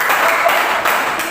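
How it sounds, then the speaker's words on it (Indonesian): A classroom group of students gets applause after their presentation: a short, steady patter of many hands clapping in a room, with slight surges partway through. "Kita kasih aplaus kepada kelompok"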